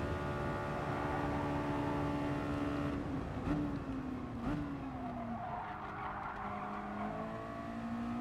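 Mazda MX-5 touring car in a racing video game at Bathurst, its engine droning steadily with rising and falling pitch, tyres scrubbing and skidding through corners, loud and continuous.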